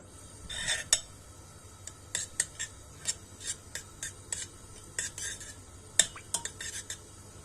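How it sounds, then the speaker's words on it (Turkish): A spoon scrapes and taps against a pot while tomato paste and salt are sautéed for tarhana soup, producing irregular sharp metallic clicks and scrapes over a quiet background, with no voices. "Ve bir yemek kaşığı salçamızı biraz tuzumuzu atıyoruz. Salçamızı kavuracağız."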